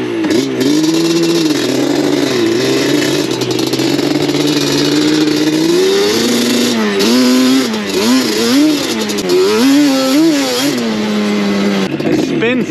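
A Banshee 421 ATV engine revs on sandy trails. Its pitch rises and falls through repeated throttle blips, loud and close, while people talk over it.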